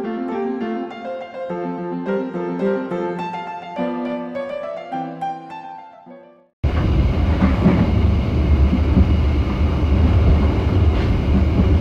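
Inside a Logawa business-class train running from Jember, a loud, steady broadband rumble of the moving carriage fills the second half, after a stretch of gentle instrumental music; no talking.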